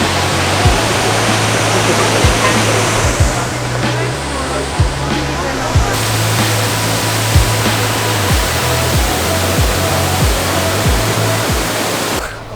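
A steady, roaring wash of a giant waterfall at Krka National Park, Croatia, loud and constant, with a low rhythmic thumping and faint voices of a crowd beneath it.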